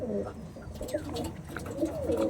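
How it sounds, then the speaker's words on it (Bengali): Pigeons cooing close by in a loft of active birds, a few soft throaty coos and low warbles repeating over faint background noise. "দেখুন ফুল অ্যাক্টিভ পায়রা"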